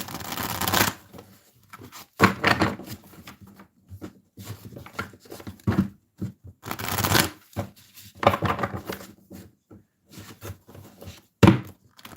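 Tarot cards are shuffled by hand during a live reading, giving irregular bursts of riffling and soft thumps separated by short pauses, close and moderately loud.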